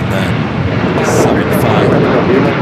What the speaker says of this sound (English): Delta 757 just touching down here on the south side